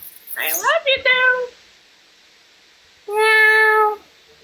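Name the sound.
person imitating a cat meowing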